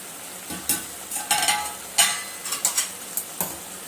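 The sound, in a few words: stirring gongura sorrel-leaf chicken in a pot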